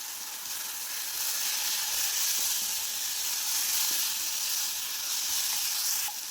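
Turmeric and chili powder sizzling in hot oil in a pan for a dried shrimp curry, a loud, steady, close hiss that swells and holds with faint stirring ticks underneath.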